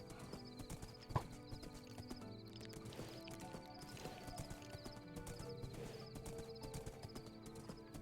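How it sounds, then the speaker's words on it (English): Hooves clip-clop steadily as a horse gallops in Minecraft, the rhythmic footfalls running throughout with a brief neigh near the start over game music and ambience. "this horse is moving at a pretty good clip"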